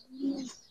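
Pigeons at a giribaz and colour pigeon loft coo once, a soft throaty call swelling and fading in under a second, close and moderately loud, with faint chirps around it and no talking.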